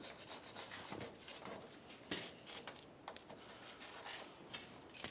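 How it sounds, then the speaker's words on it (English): A wire brush scrubs the track bar mounting area on a 1994-2002 Dodge Ram 2500, giving quiet, close rasping strokes in uneven repeated bursts with no talk. "We'll clean this up using a wire brush."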